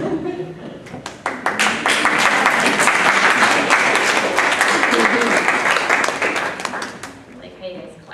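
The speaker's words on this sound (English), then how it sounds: "Like how you guys clap a lot" An audience at a poetry reading breaks into applause that starts as scattered claps, swells into a loud, sustained round, then tapers off, with voices mixed in underneath.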